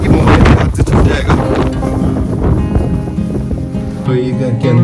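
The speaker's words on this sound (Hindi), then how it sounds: "इतनी तेज़ हवा है कि लग रहा है कि मोबाइल हाथ से छूट जाएगा।" Strong gusts of a Canadian winter storm buffet the microphone with loud, roaring rushes of wind that ease slightly and swell again, and a voice can be heard beneath the blustering noise.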